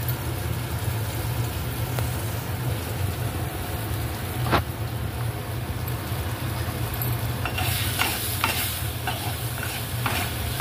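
Spices stir-fried in hot oil in a home kitchen pan as turmeric goes in, giving a steady loud sizzle with scraping stirring strokes and brief clinks, no voices.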